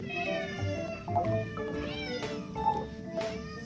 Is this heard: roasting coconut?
no